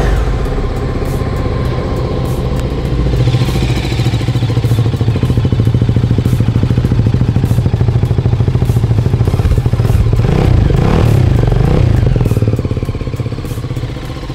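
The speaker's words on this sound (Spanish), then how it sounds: "vamos a ponerle en marcha para escuchar a su motor" A Voge motorcycle engine, in the 300 cc to 650 cc range, runs loud and close, holding a steady, rough, rapidly pulsing idle without pause.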